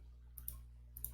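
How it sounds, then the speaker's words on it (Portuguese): Computer mouse being clicked while working in Blender, two small crisp clicks about half a second apart, quiet and close, with no speech. "Vou clicar no maisinho."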